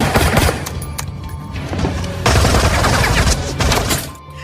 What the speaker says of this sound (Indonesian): Di dalam gedung, Aep dan Jack kembali beradu tembak yang membuat mereka berdua kehabisan peluru.